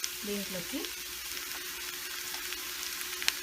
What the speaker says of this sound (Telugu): ఆనియన్స్ ఫ్రై అవుతున్నాయి కదా, ఈ మాత్రం ఫ్రై అయితే సరిపోతుంది